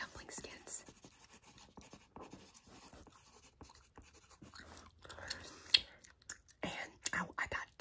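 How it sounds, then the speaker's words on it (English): Soft, close scratching of pencil on paper while writing a grocery list, faint and intermittent strokes mixed with whispering and some gum chewing. "Pencil sounds are very nice."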